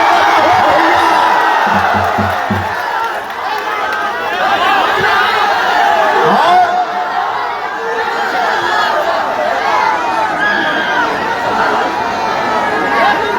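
A big crowd at a candidate's election rally in Shahpur claps and cheers steadily, a loud, dense mass of applause, whoops and chatter throughout, with a few brief voices near the start.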